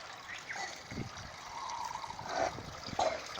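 Spring water at a Hawaiian healing spring trickles and flows into a sewer drain, a soft continuous outdoor trickle with faint splashes and gurgles, moderately quiet with background ambience.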